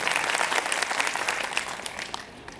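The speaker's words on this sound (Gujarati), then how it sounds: "ફરીથી એકવાર તાળીઓથી વધાવીએ." Audience applause at a school event, a dense, steady wash of clapping that fills the whole stretch and fades slightly toward the end, with no talking over it.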